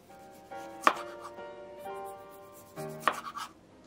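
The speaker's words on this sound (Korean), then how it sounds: "토마토 두 개는 동그란 모양으로 써세요" Knife slicing tomatoes into rounds on a cutting board for a simple breakfast, with sharp chopping taps spaced through the clip and light board sounds between them.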